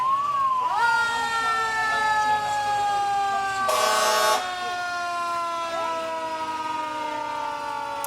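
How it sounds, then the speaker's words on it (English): Old fire trucks roll past in a July 4 Independence Day parade, their mechanical sirens wailing and sliding down in pitch. A brief loud horn-like blast sounds midway over the steady wail. "Everybody loves the fire trucks."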